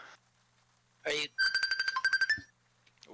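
A short electronic phone ringtone, a quick burst of bright rhythmic beeps lasting about a second, preceded and followed by brief speech-like sounds in a quiet room.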